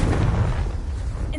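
A Confringo blasting spell explodes in Hogwarts Legacy, a loud, dense low boom that fills the whole moment and tails off slightly near the end.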